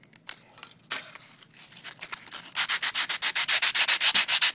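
A file rasps across the sides of a tabletop terrain piece to flatten them, first a few scattered scrapes and then a close, steady run of rhythmic back-and-forth strokes that grows louder.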